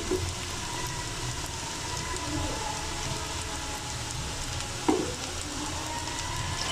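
Vegetable pitha deep-fry in hot oil, a fairly quiet, steady rain-like sizzle throughout, broken by a single sharper clack near the end, with no one speaking.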